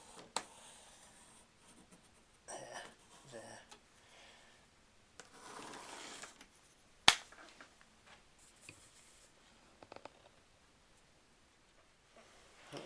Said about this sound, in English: I'm just going to mark this area with a pencil, just roughly